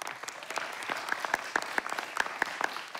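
Studio audience applause for a contestant on a Czech comedy show, brisk continuous clapping with a few sharp louder claps standing out above the crowd.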